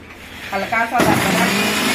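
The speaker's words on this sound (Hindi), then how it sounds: "अब इसे हम मिक्सर में डालेंगे" A brief spoken phrase is followed by a kitchen mixer grinder grinding spices, whirring to life with a sudden loud, harsh grinding roar that continues steadily.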